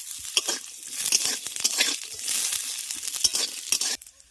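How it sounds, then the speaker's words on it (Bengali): Cashews and almonds fry in hot ghee with a crackling, bubbling sizzle, stirred with irregular scraping bursts, close and steady until it quiets at the end. "এই ঘিয়ের মধ্যে আমি কিছু ড্রাই ফ্রুটস কাজু আর আমট বাদাম নিয়েছি এগুলোকে ভেজে নেব"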